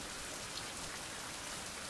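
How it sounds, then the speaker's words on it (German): Steady, dense rain falls in the survival video game Fountain of Youth, a continuous close hiss of drops on surfaces throughout, with no voices. "Und es regnet"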